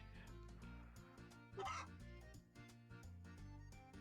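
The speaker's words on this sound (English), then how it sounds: "They are definitely chickens." Chickens cluck in the farm game Story of Seasons: A Wonderful Life, a brief burst of clucking set against steady, quiet background music.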